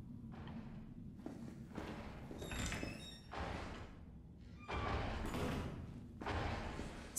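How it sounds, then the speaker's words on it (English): A door opens in the Resident Evil 3 Remake video game, giving a few thudding, scraping movements with a squeak, alongside footstep-like sounds over a steady low ambient game background. "Oh, that's a door."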